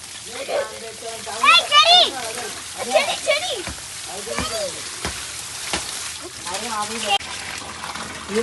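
Water splashes and trickles repeatedly while a baby is bathed at home, with bursts of gushing and sloshing; adults and someone talk and coo throughout over the splashing.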